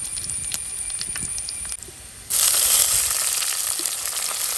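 Curry leaves dropped into hot oil with garlic, a moderate sizzle that suddenly bursts into a louder, crackling spit and hiss that holds steady to the end.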